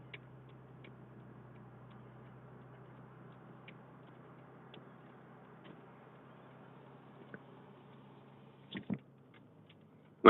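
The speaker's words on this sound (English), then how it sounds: "So you might hear a little ticking noise there as we roll down the road here." Four-way hazard flashers in a car rolling down the road tick faintly at a steady, slow rhythm over quiet engine hum, with a couple of louder knocks near the end.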